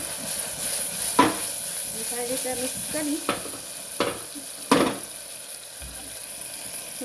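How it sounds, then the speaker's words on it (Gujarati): Vaghar tempering for Gujarati dal-dhokli sizzles steadily in a pan, with several sharp clinks of a spoon stirring against the metal and a person speaking over it. "થોડીક રીતે આમાં વઘાર થઈ ગયો છે"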